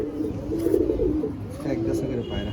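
Rampuri pigeons of an old Kalajiriya flying bloodline coo in low, repeated throaty phrases, close and steady, with someone talking over them.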